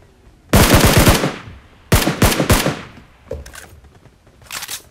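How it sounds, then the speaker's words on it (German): Loud bursts of rapid gunfire in PUBG Mobile, a long volley then a shorter one, followed by fainter scattered shots. "War ein Schuss, gell?"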